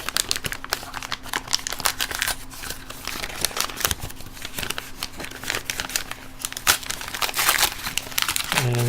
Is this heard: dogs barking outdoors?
no